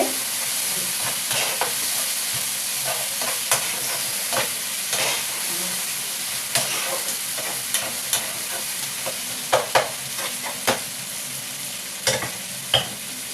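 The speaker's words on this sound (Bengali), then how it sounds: "এই যে আমার মশলাটা কষানো হয়ে এসছে।" Bengali-style masala paste for mutton curry fries in oil with a continuous crackling sizzle, broken by repeated scraping and tapping as a spatula stirs it in the pan, close by.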